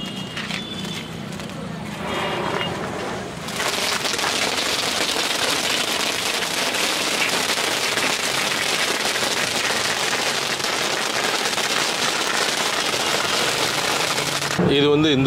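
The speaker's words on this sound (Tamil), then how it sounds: "வாங்க, இதை வெடியை நான் பொருத்தி காமிக்கிறேன்." A children's handheld firecracker is lit and set off, giving a dense, sustained crackling burst that runs for about eleven seconds after a brief quieter start.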